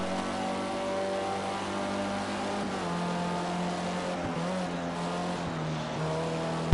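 A race car roars steadily past on a track at a Labor Day Grand Prix, its engine droning loud and continuous with shifting pitch throughout.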